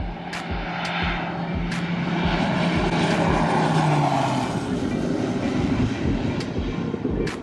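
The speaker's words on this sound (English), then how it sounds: "I guess there's gonna be a low pass from like a meridian or something" A Meridian airplane makes a low pass overhead, a broad, steady engine roar that swells toward the middle and stays loud throughout, with a low droning tone sliding downward as it goes by.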